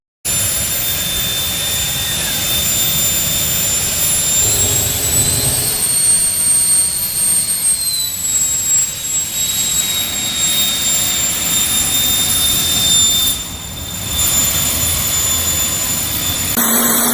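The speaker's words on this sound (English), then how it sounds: "Porsche 928 with Boeing jet engine?" A Porsche 928 fitted with a Boeing jet engine running, giving a loud, continuous turbine roar with piercing high whines that shift in pitch, a brief dip near the end, then a return to full roar.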